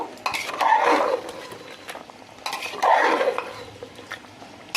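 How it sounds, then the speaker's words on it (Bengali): Mutton being stirred and turned in a hot pan, with two long bursts of close scraping and clattering against the metal separated by a quieter stretch of soft sizzling, and no speech. "ভালো করে নেড়ে নেব"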